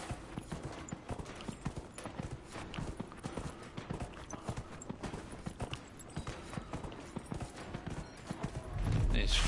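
A horse gallops in Dragon Age: Inquisition with a rapid, continuous clip-clop of hooves. A voice talks over the hoofbeats, and a louder burst of noise comes at the very end.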